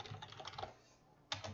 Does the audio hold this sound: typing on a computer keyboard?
yes